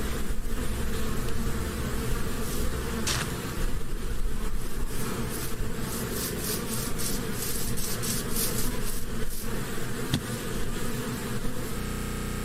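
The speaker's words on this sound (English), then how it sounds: "The player hears that buzzing sound effect again before finding a bee with the player's face on it." Bee buzzing effect in a horror video game, a loud, continuous insect drone that wavers in pitch and intensity over several seconds, close and unbroken with no speech.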